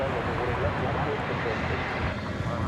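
A Spirit Airlines Airbus A320neo at DFW Airport at night gives off a broad, steady jet-engine roar with wind rumble, while someone talks over it.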